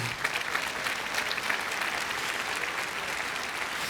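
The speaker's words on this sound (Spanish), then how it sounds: "dale un fuerte aplauso a Él." Church congregation applauding together during a sermon, a steady, dense wash of clapping filling the room at moderate level with no voices on top.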